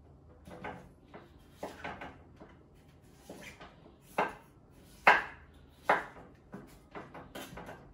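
A knife chops through pumpkin for soup with shrimp, giving a series of sharp, irregular knocks against a cutting board, close and moderately loud, with quiet pauses between strokes.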